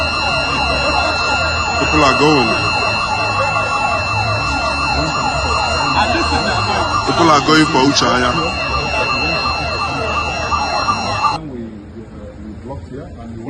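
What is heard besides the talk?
siren sounding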